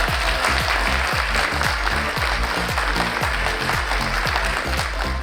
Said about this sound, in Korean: 김주인 님을 큰 박수로 모셔보겠습니다